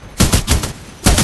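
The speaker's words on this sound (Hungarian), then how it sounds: "Ezt használtam, ezt a light machine gun-t, ez nagyon jó hatékony tud lenni." A light machine gun firing in Titanfall 2, loud close bursts of rapid shots with a short pause before a final burst, no voices.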